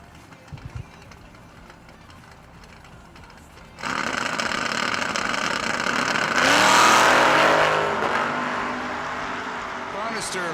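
A 1968 Camaro drag racing down the right lane at a drag strip: a quiet idle, then the engine bursts into loud sustained revving from near four seconds, swelling into a rising high-pitched roar before easing off.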